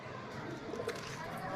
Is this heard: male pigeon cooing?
yes